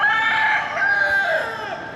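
A rooster crows loudly and close by in Malaysia, a long drawn-out cock-a-doodle-doo with harmonic rising and falling tones lasting nearly two seconds.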